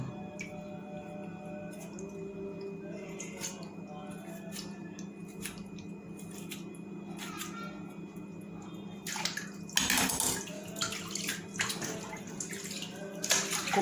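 Tap water runs steadily over a raw chicken being washed in a home kitchen, a continuous close rushing stream with a louder splash and clatter near the end.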